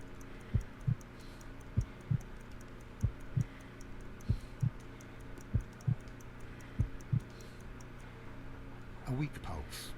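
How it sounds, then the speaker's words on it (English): Paired heartbeat thumps, slow and steady, in the Sherlock Holmes: Crime and Punishment video game while a pulse is being counted. About seven lub-dub pairs sound clearly over a low hum, then stop near the end. "Measure pulse rate by counting heartbeats."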